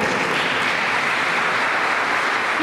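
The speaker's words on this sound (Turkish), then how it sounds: "Kendinizi bir alkışlayın" A packed hall audience at the opening of Turkey's first Turkish archaeology institute in Gaziantep applauds themselves, giving a dense, loud and unbroken wash of clapping from start to finish.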